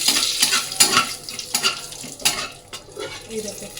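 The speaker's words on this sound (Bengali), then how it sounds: "এগুলো একটু ভাজা ভাজা করে নিয়ে" Whole spices, cumin and cut chilli sizzling in hot oil in a wok, with repeated close metallic stirring scrapes and clinks over a continuous crackling fry, no talking.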